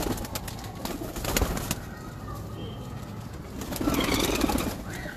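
Breeder pigeons coo in a loft, soft low calls rising near the end amid scattered wing flaps and handling knocks, fairly faint with no clear talk.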